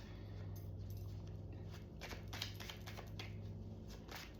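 A deck of tarot cards is shuffled close up, with soft riffling and papery flicks in a quiet room, low in level.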